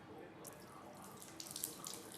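Hands are washed under a running tap at a village home sink before a meal, a steady close wash of flowing water with brief splashy bursts toward the end.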